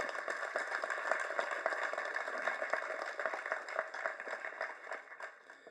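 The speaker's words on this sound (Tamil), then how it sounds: "ஸோ இந்த அரங்கமே அதிர மாதிரி அப்பாவுக்கு பலத்த கரகோஷம் கொடுங்க" Steady applause from a crowd, a dense patter of many hands clapping continuously before tapering slightly at the end.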